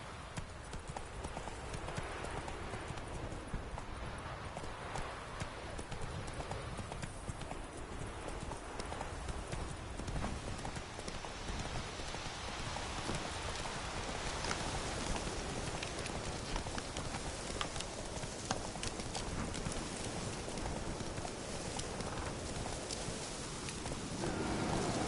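The horse Roach gallops in The Witcher 3 Wild Hunt, with rapid continuous hoofbeats drumming steadily throughout over a busy outdoor game ambience.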